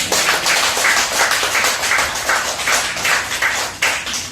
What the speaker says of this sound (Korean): 믿어지는 박수.